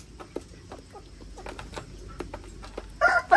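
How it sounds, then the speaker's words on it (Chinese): A chicken on a farm grabbing food near a newborn lamb, giving a run of short, quick clucks and pecking taps, ending in a louder burst of clucking. "来了一只抢吃的鸡，"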